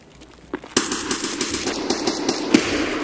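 Gunfire in Escape from Tarkov: a rapid burst of automatic shots starting with a sharp crack, then a steady rattling stream of fairly close rounds with a few louder spikes, heard alone without talk.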